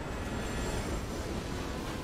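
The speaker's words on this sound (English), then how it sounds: "I hear the train too." A train rumbles steadily past in the Mafia video game, a dense, continuous roar with faint high wheel squeal, alone with no talk.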